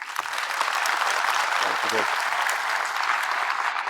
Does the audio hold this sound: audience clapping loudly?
yes